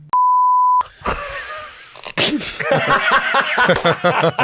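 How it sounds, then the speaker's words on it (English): A single loud, steady censor bleep lasts about half a second, followed by sneezy, groaning vocal sounds and noisy voices. "One of those buzzers to just cut out."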